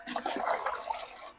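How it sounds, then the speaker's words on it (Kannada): Water rushes and splashes as it is poured into a freshly cleaned livestock drinker, a short steady gush close by that cuts off abruptly at the end. "ನೀರು ಹಾಕೋಣ ಇವಾಗ."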